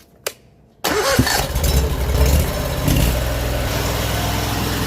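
A drain jetting machine's engine cranks and fires up after a short click, then settles into a loud, rough, rumbling idle close by.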